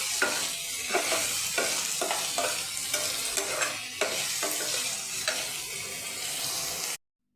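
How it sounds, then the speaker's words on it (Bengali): Two chopped onions fry in hot oil, a continuous close sizzle broken by regular scraping strokes of a spatula across the pan, with no talking, until the sound cuts off abruptly. "পেঁয়াজটা ভালো করে লাল লাল করে ভেজে নেব"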